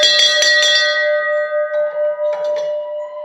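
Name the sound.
church bell ringing after being hung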